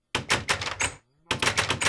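Cured villagers in the video game Minecraft make a quick run of choppy, clattering bursts, then a short gap and another busy run, loud and close.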